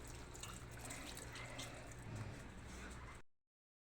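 Water pours steadily into a cooking pot of vinegar-soaked tilapia for paksiw, a soft continuous trickling splash that runs for about three seconds before cutting off abruptly into silence.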